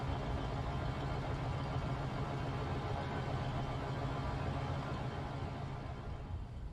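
An engine rumbles steadily at a station in the game Marvel's Spider-Man: Miles Morales, a constant low, broad drone at moderate level with no talking over it.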